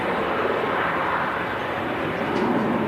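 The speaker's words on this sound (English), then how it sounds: "11-year-old aircraft, this Marathon Airlines. Embraer 175." Steady, loud roar of a Marathon Airlines Embraer 175 jet at Manchester Airport, a broad continuous engine rush holding level throughout with no pauses.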